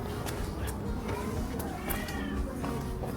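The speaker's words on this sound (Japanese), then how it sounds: "猫の声。" Cats yowling and meowing as if in a fight on a village street in Albi, southwest France, several sharp cries rising over steady background noise and voices.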